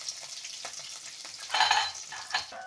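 Chana dal, curry leaves, green chillies and a little dried chilli crackle in hot oil, a faint, even sizzle with a brief louder burst of spitting near the middle, heard alone without talk.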